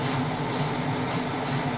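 An airbrush or spray can lays light dust coats of paint onto 1:12 scale Tamiya Repsol Honda RC211V model fairings, a steady close hiss pulsing in four short bursts.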